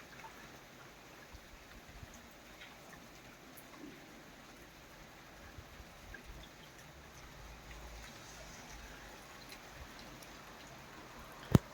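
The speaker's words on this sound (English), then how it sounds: "Probably just rain." Heavy rain falls outdoors as a steady, dense hiss of drops that keeps on for the whole stretch at a soft, even level, with no voices.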